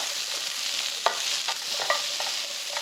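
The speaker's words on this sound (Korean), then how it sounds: "식용유로 볶기 때문에 오이의 막에 코팅되겠죠." Cucumber and beef stir-fry in cooking oil over high heat in a frying pan: a steady, dense sizzle with a few sharp scraping clicks as the food is tossed and stirred, no talking.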